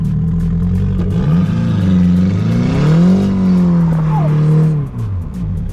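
An Audi A4 drift car's engine revs loud and close, its pitch sweeping up and down as it launches after a clutch dump, with a brief tyre squeal near the end.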